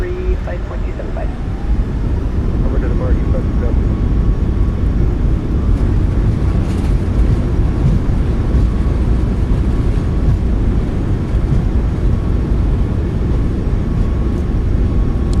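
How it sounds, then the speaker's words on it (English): A WestJet Boeing 737 MAX 8 roars with thrust reversers deployed during landing rollout at Palm Springs, a loud, sustained low rumble heard from the cockpit with voices talking over it. "Reversers are out. Decelerating."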